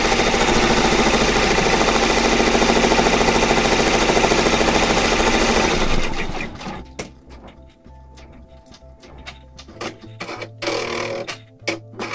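An embroidery sewing machine stitching a tack-down line on vinyl runs with a loud, steady rapid mechanical chatter for about six seconds, then stops, leaving scattered clicks and handling knocks.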